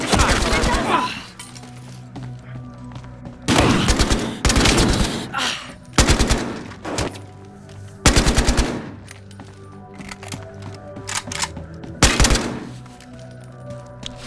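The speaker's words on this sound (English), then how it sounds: "Suspects are firing." Gunfire in Battlefield Hardline, loud bursts of rapid automatic fire recurring every couple of seconds, each sharp and close, with quieter gaps of game ambience between them.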